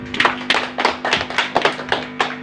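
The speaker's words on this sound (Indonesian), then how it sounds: "Tepuk tangan dulu." Scattered audience applause at a motivational business seminar, a handful of distinct claps in an uneven rhythm, fairly close, with a steady low hum underneath.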